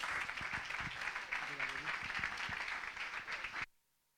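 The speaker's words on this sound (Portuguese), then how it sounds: "Pedi então uma salva de palmas." Audience at a game engine conference talk claps in a dense, sustained burst of applause with a voice speaking over it, then the sound cuts off abruptly near the end.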